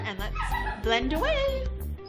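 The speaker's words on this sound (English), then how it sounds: "the crying is not my fiance. That is my dog." A dog whimpering and whining from inside its crate indoors, high tonal cries rising and falling under someone talking close by during a makeup application.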